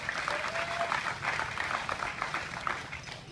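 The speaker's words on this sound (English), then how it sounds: "round of applause" An audience applauds at a Boston brain tumor charity ride event, a steady, even wash of many hands clapping at moderate distance that holds for a few seconds with no talking.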